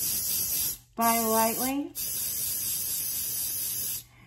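An airbrush sprays paint onto tights in two steady hissing bursts, the second long and even, with a short spoken aside between them.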